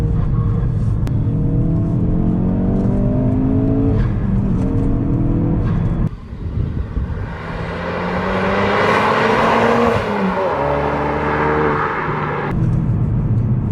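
A Ford Focus RS engine with a big intake revs hard and close, rising and falling through gear changes with a loud, throaty intake roar and a rushing burst mid-way, no speech.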